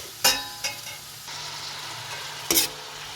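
Onions frying in a pan for Turkish gömeç kavurma, with a steady sizzle under sharp scraping stirs near the start and again near the end.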